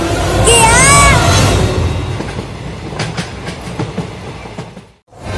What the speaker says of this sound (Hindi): अरे ये ट्रेन तो रुक ही नहीं रहा।